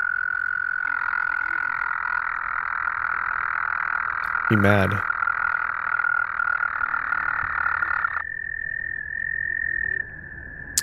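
A voice imitates a loud toad ribbit, one buzzy, pulsing croak in the middle of the clip over a steady background tone, with a few brief spoken words nearby.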